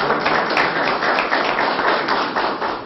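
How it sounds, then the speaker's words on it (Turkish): An audience at a public town assembly claps steadily, a dense, close, fairly loud patter of many hands that holds throughout without speech. "Ona da bir alkış atalım hep birlikte."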